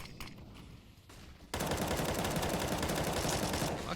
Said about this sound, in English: this little wallbang spot from Destroyer actually to tag up the corner